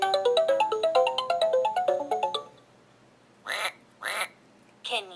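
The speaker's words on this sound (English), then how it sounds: "Can you quack like a duck? Quack, quack!" A Fisher Price Laugh & Learn tablet toy plays a bright electronic jingle, then goes quiet before three short, nasal, duck-like quacks spaced about half a second apart.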